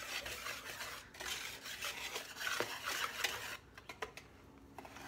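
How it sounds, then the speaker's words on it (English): A whisk works waffle batter ingredients together in a bowl, giving a faint, brisk scraping and rubbing rhythm that thins into separate light taps toward the end. "we're going to take a whisk and we're just going to whisk all of it together"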